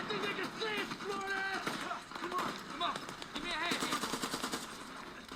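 Sustained machine gun fire from a battle scene in the war film Hacksaw Ridge rattles in rapid, continuous bursts, loud and dense, mixed with shouting voices and battlefield chaos.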